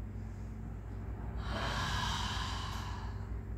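A hard, forceful exhale during a Pilates exercise, a broad breathy rush that swells about midway and holds for roughly two seconds, close and fairly loud over a steady low hum.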